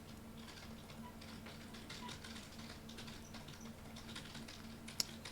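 Quiet, rapid clicking of a computer keyboard during coding, in irregular bursts of keystrokes over a low steady hum, with one sharper click near the end.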